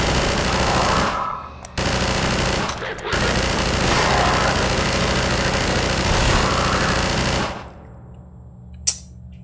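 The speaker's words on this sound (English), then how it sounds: "Now I have a machine gun." Sustained rapid-fire machine gun bursts from Half-Life 2 gameplay, loud and dense, rattling for several seconds with a brief break and ending in a sharp single report.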